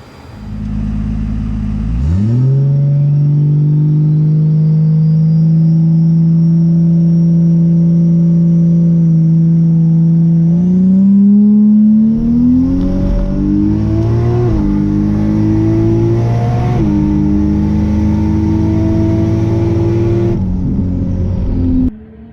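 A nitrous-fed drag car launches hard off a two-step rev limiter at night, a loud sustained engine roar that climbs steadily in pitch through the run, close and alone with no talk.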